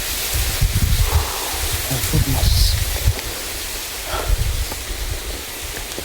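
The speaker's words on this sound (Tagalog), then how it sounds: "Masyadong malakas yung hangin." Gusty wind buffets and roars across a microphone, swelling and easing in bursts, with a brief spoken exclamation partway through.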